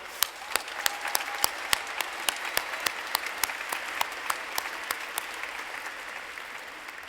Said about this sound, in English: Let's give all of you a wonderful applause.